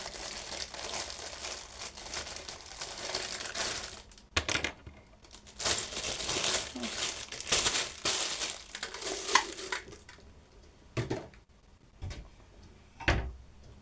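Plastic bag crinkling close up as items are taken out, bursts of rustling and crumpling with a few brief pauses and soft knocks, no talking.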